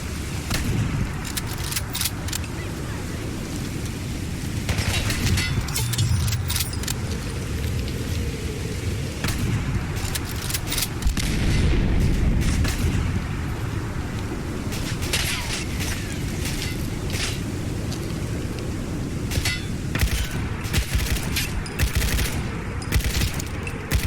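Rifle gunfire in a heavily modded Fallout 4, dense volleys of shots and booms sustained throughout, loud and close with a rushing background.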